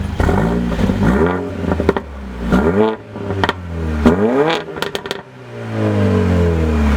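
A 2014 Mercedes-Benz CLA45 AMG engine revs up and down several times in strong bursts, rising and falling pitch, with sharp crackling exhaust pops between revs, loud and close.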